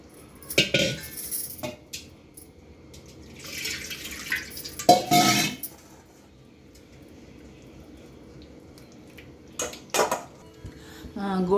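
Boiled tamarind pulp being strained in a metal vessel, heard as scattered clinks and scrapes of utensils against the pot with dripping water in bursts, separated by quiet pauses.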